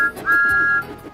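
Thomas the Tank Engine, a small blue cartoon tank engine with a short stumpy funnel, gives one clear, steady whistle toot lasting about half a second, loud and close.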